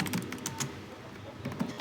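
Fast keyboard typing fills the stretch, a dense run of close, crisp key clicks with no voice over them, as a networking command is entered.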